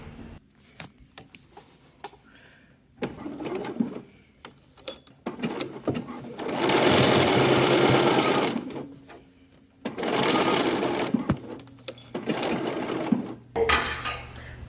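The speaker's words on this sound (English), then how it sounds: "I'm just gonna top stitch it because it's easy." A sewing machine top-stitches a baby headband in bursts, with a few long steady runs of fast, even needle chatter between short pauses and soft handling sounds; no one speaks.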